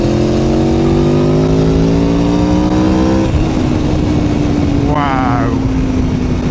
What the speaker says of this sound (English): So much torque, so much power. Sounds so good.